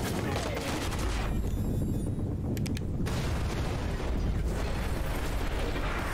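A gun fires in Cyberpunk 2077 during a police-style street fight, loud bursts of rapid shots with a brief lull in the middle before the firing and booming resume.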